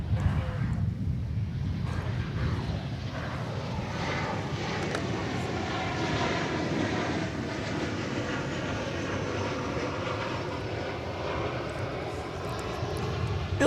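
Airliner at DFW Airport, a jet engine roaring loudly for the whole stretch as a steady broadband rumble that rises slightly at the end.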